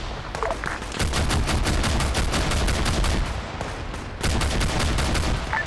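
Bursts of rapid gunfire crackle in quick succession, with a short pause midway before another sustained volley, sounding like automatic weapons in a game.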